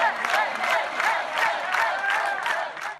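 Crowds in Catalonia cheer and shout in rolling waves for firefighters, a dense, fairly distant roar of voices and whoops that swells repeatedly.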